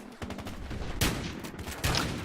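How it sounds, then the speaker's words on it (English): Shotgun fire in the video game Battlefield Hardline, two sharp loud blasts about a second apart over a busy background of game noise and light clatter. "So that's the shotgun."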